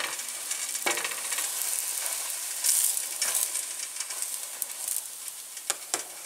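Crunchwrap Supreme frying in a pan after being flipped, a steady close sizzle and hiss with a few light scrapes and taps.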